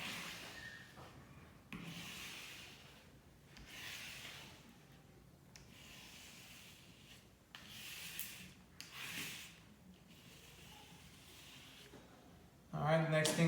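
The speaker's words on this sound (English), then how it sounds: "go over it with a squeegee to make sure that it's an easy transition when you put this on the vehicle" A squeegee rubs in repeated short strokes over a vinyl decal for a 2020 Dodge Charger Scat Pack, faint scraping sweeps with brief pauses between them, ending in a louder burst of handling noise.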